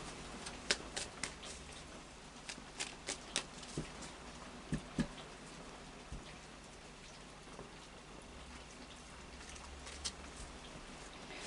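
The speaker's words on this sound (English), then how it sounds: "a final shuffle of the Tarot of Dreams" Soft crackling riffle of tarot cards being shuffled, a string of light snaps and taps over a quiet hiss, with no one speaking.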